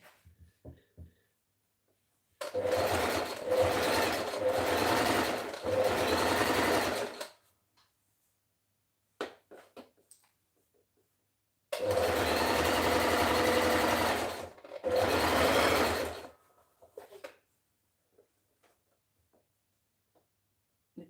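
Domestic sewing machine running a zigzag stitch while an outfit of top and skirt is sewn, two long bursts of steady rapid whirring with brief pauses between, fairly close and without talk.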